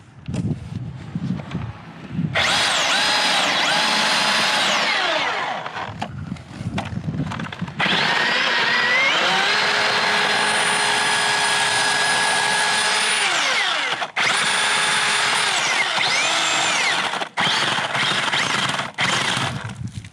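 A chainsaw cuts through the hinge of a large white oak, loud and close, in long sustained bursts of high buzzing that rise and dip with the load, broken by brief pauses at idle.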